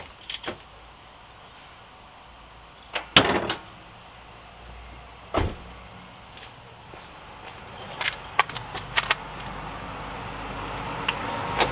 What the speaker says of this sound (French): Donc j'ouvre la voiture.